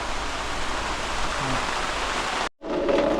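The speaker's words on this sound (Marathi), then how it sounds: "फायनली फायनली मित्रांनो आपल्या गावी पावसाचं आगमन झालेलं आहे" Rain falls steadily over a Konkan village, a dense, even hiss of drops close by, with a brief cut near the end followed by more rain and a faint tonal sound.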